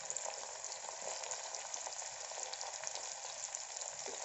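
Onions sizzle steadily in hot oil with curry leaves and mint for a Telugu-style tomato rice, a dense, even crackle with tiny pops throughout, close and unbroken, with no talking.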